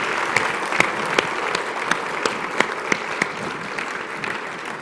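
A conference audience at a medical keynote gives a round of applause, steady dense clapping with a few sharper claps standing out, no talking over it.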